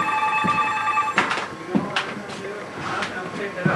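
A landline telephone rings with a bright electronic trill, several bursts in a row, close and clear, while someone talks over and between the rings.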